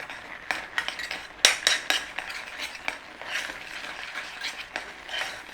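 A spoon stirs corn flour into strawberry rhubarb filling in a pan, with repeated metallic scrapes and clinks against the pan in an irregular rhythm, close and moderately loud.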